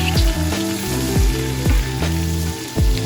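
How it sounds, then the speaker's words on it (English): Tomatoes and mushrooms sauté in butter and garlic, a loud, steady sizzle with repeated low thumps and scrapes of stirring, no voices. "Saute the tomatoes and mushrooms until they are soft."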